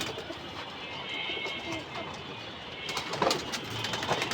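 Pigeons kept at home, racer types, coo softly in a low, murmuring rumble under a steady background hiss, with a few louder rustles and flutters near the end.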